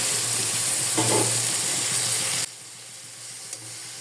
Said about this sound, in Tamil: க்ளீன் பண்ணி வச்சுருக்க புதினா மல்லியும் சேர்த்து நல்லா வதக்கிக்கலாம்.